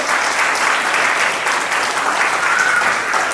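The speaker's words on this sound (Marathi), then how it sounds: "दोघींसाठी एकदा जोरदार टाळ्या द्यायला पाहिजे" A room full of people claps loudly and continuously for two young sisters after their dance at a birthday celebration, a dense, even wash of applause throughout.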